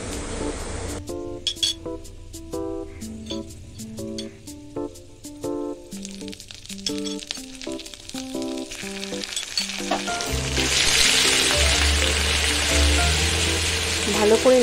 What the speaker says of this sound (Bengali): ফোড়নটা একটু নেড়ে চেড়ে সামান্য পরিমাণে হিং দিয়ে 1 চামচ আদা বাটা ও 1 চামচ কাঁচা লঙ্কা বাটা দিয়ে দেব